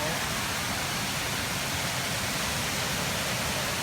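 Tad Ton waterfall in Thailand roaring as a steady, dense broadband rush of falling water, loud and continuous with no breaks.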